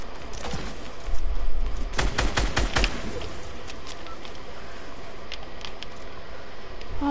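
A burst of rapid gunfire from the Fortnite video game, a quick volley of sharp cracks followed by scattered fainter shots and game ambience.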